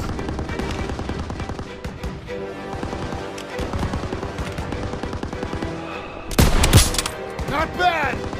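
Enemy machine gun fire in the Call of Duty WWII mission Stronghold, a dense stream of rapid shots mixed with a battle score and other combat noise, with sharper nearby bursts toward the end.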